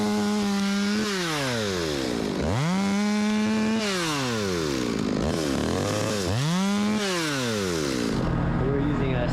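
An old Stihl chainsaw with an aggressive bar revs loudly and repeatedly, climbing and dropping in pitch as it cuts into a rotten cottonwood tree during a large tree removal. The engine whine is close and fills the whole stretch.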